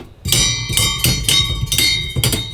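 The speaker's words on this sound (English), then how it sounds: "whenever that fan turns, if it's not fitted properly, it's gonna sound like this." Repeated metallic clattering bursts, about six in a regular rhythm, loud and close, from an improperly fitted oven fan knocking as it spins.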